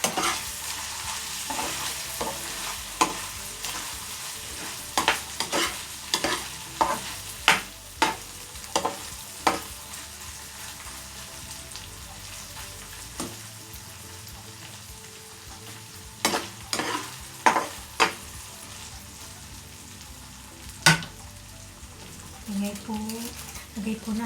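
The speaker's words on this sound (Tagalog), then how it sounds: "Then, haluin po natin." Chicken liver and gizzard stirred with tomato sauce in a pan, a steady sizzle beneath repeated sharp scrapes and clinks of a spoon against metal, spaced irregularly across the whole stretch, with a voice talking at times.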